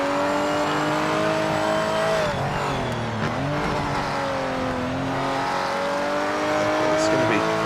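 A race car in the racing game Project Motor Racing roars at high revs with shifting engine pitch and brief tire noise, loud and continuous, with a voice talking over it.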